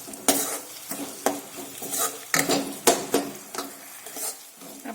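Chopped tomatoes and salt cooking in a pan for palak chana dal curry, a quiet sizzle broken by repeated spoon stirs and scrapes against the metal, close and unhurried.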